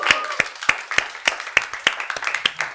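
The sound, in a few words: applause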